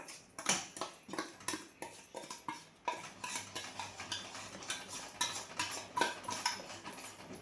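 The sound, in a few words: stirring Ashoka halwa mixture with sugar in a pan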